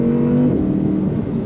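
A car driven along a UK road, its engine droning loud and close with a steady tonal hum and slight revving variation, no voices over it.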